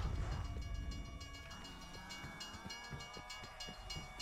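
A train in a Call of Duty Zombies map set in Berlin, rumbling steadily with rhythmic rail clatter and a faint horn-like tone, fairly loud and continuous throughout.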